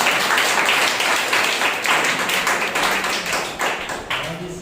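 A church congregation at a Sunday service claps loudly and energetically, producing dense, sharp applause with rhythmic surges that fades slightly toward the end.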